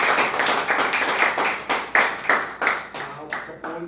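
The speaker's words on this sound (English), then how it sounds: "So please have a big round of applause." Audience applause at a club meeting, a small group clapping in loose bursts, fairly close and moderately loud, thinning out toward the end.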